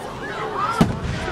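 A single big firework bursts with a sharp, loud bang partway through, set against outdoor chatter and excited voices near a school at night.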